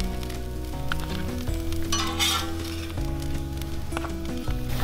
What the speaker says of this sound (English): basically pan-fried liver mush, how you might do it on a flat top or in a skillet with a little bit of oil